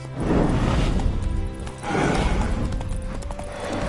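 Horse hooves clop in The Witcher game, heavy rhythmic thuds close by in two rolling bursts, with a faint whinny-like tone near the end.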